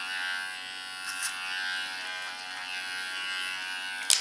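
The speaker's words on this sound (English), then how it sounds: "use my clipper as a comb, take away the hairs, go to the front, leaning on the skin" An electric hair clipper buzzes steadily close up while cutting a short platinum pixie, the bright hum staying even throughout with small bumps as it moves through the hair.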